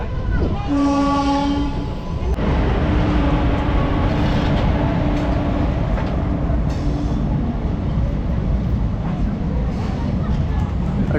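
A passenger train runs close by with a loud, continuous rumble and rattle, and horn blasts sound near the start; voices are faintly mixed in.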